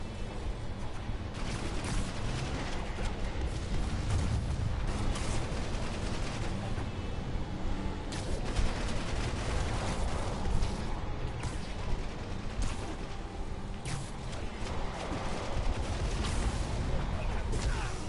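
Sustained enemy gunfire in Marvel's Spider-Man, a dense continuous barrage of shots and clatter lasting throughout at steady loudness, with a voice speaking briefly over it.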